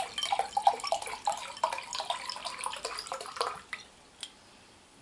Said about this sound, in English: I'm going to try and pour this quite aggressively because, as I say, it's very young in the bottle